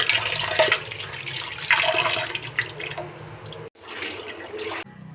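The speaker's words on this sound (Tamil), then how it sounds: "இப்போ நம்ம அரிசியை கழுவி எடுத்து வச்சுக்கலாம்." Rice is washed in a kitchen under running water, a loud continuous splashing stream with brief swishes, cutting off and resuming once before stopping, with no talk.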